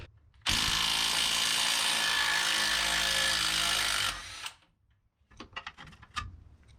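Impact wrench works on a front strut bolt of a Mercedes W124, giving one loud, steady whirring burst of about four seconds up close, then a short pause and several quick rattling clicks.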